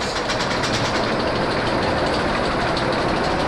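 Roller coaster trains running on the track at Parc Asterix, a continuous loud rumbling roar with faint clattering, steady throughout and without speech.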